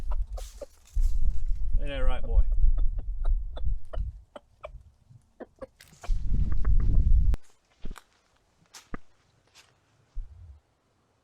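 A rooster kept with hens clucks in short bursts near the start, mixed with low rumbling handling noise and shuffling. Someone talks over much of it.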